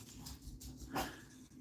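A dog gives a faint, muffled bark or yelp indoors at noise from bin men collecting rubbish outside, one brief sound over a low background.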